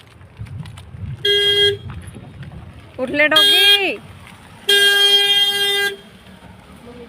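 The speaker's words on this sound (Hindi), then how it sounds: "गाड़ी आ रही है।" A car horn sounds in short, loud toots as the vehicle approaches on a rainy road. There are two clear blasts about three seconds apart and a wavering tone between them, and a person speaks briefly.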